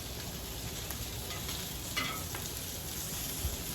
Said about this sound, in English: let's give our bacon here just a turn